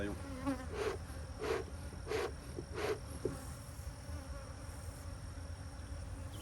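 Angry honey bees at the hive buzzing in a dense, steady drone, with several individual bees zipping close past in a rhythmic series of louder passes over the constant swarm hum.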